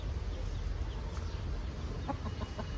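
Chickens on a poultry farm with newly hatched chicks, soft scattered clucks and short calls over a constant low hum, faint and fairly close, with no talk.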